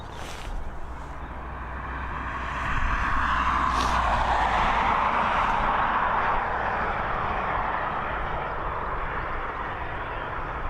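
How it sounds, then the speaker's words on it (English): An Air Baltic Airbus A220 jet departing Dublin Airport, its engine roar building into a broad, steady rush that holds loud and continuous at a distance, with no talking. "It's Air Baltic operated Airbus A220."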